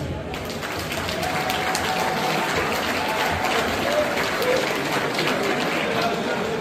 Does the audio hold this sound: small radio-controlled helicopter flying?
no